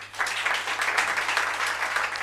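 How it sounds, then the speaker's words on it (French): Audience applause at a school graduation ceremony, a dense even patter of many hands clapping steadily throughout the short stretch, fairly close, with no voices over it. "Je demande à tout un chacun de l'applaudir aussi."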